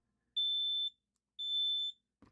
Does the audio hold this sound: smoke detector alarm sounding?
yes